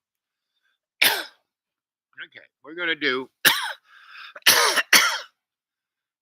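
A few sharp coughs and a throat clear ring out close by, separated by brief bits of speech.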